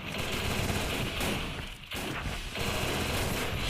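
Free Fire gunfire in a training match, dense rapid automatic bursts that run almost continuously with a brief gap midway, loud and close.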